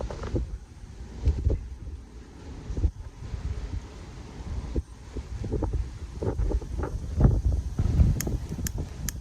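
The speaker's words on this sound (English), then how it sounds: "It is so fucking windy," Strong gusts of wind buffet the microphone outdoors, with loud low rumbling surges and dips that swell and fade throughout, brief crackles near the end.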